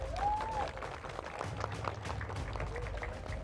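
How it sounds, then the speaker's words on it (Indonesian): Audience applause during a weigh-in segment on a free-wedding game show, steady clapping across the whole stretch with some faint voices and a brief tone mixed in. "Tepuk tangan sekali lagi."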